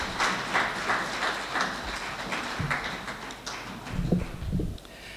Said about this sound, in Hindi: भरपूर तालियों में इस्तक़बाल कीजिए जनाब अब्बास ताबिश साहब।